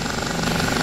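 An OH-58D Kiowa helicopter idles after landing in DCS World, giving a brief, steady, loud rotor-and-turbine drone with an even pulsing texture and no speech.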